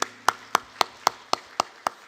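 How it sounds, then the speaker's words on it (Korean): A church congregation claps during a Sunday worship service, eight sharp claps landing in an even, steady rhythm close by, with no talking. "많은 경광의 박수를 올리겠습니다"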